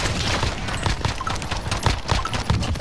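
Rapid bursts of gunfire in a battle royale video game, a dense rattle of overlapping shots throughout, close and loud with no voices.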